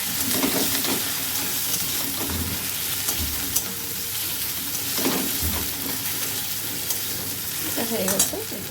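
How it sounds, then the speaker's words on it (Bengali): Cumin, ginger and garlic paste fries in a hot pan, a steady close sizzle broken by repeated scraping stirs, with no talking. "এরপর দিয়ে দেবো এর মধ্যে জিরে আদা রসুনের পেস্ট। এটা একটু ভাজা ভাজা হয়ে গেলে"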